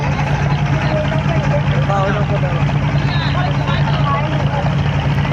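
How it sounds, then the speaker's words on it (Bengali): A trawler boat passing on a river, a steady loud engine drone with a low constant hum filling the whole stretch, while people talk over it. "আবার ট্রলার যাচ্ছে এখন"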